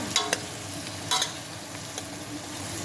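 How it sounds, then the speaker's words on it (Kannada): Ridge gourd pieces frying in a pan, a constant low sizzle broken by a few quick spatula scrapes and clinks as the pieces are stirred. "ಇದು ಹೀರೆಕಾಯಿ ಸ್ವಲ್ಪ ಫ್ರೈ ಆಗೋ ತನಕ"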